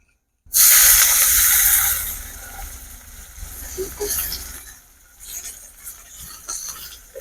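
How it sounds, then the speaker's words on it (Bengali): Chopped onions hit a hot pan for paneer butter masala, bursting into a loud hiss that slowly settles into a softer, uneven sizzle with faint crackles for several seconds. "পেঁয়াজগুলোকে আমি লাল করে ভেজে নেব কুচানো পেঁয়াজগুলোকে এবার লাল করে ভেজে নেব"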